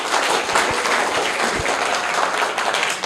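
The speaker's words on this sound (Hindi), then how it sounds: "इनके लिए एक बार और जोरदार तालियां हो जाए।" A classroom audience at a children's quiz competition breaks into strong applause for the first-place winner, a thick continuous wash of clapping from many hands lasting the whole stretch.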